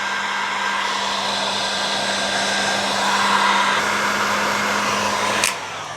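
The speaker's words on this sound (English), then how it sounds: "I like to shrink those connections down with a heat gun" A heat gun shrinking wire connections blows a steady, loud airy roar with a faint constant hum underneath, running without pause close by, then a brief clack near the end as it's set down.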